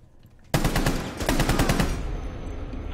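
Rapid automatic gunfire from Rainbow Six, a dense burst of loud close shots in quick succession for about a second and a half, then tapering off into a lingering echoing tail.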